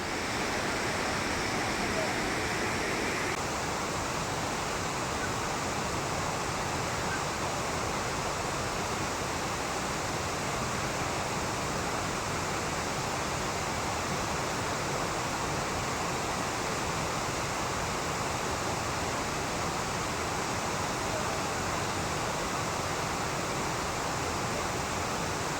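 Tirathgarh waterfall roaring close by with heavy spray, a constant loud rushing wash of falling water that fills the whole stretch without letup.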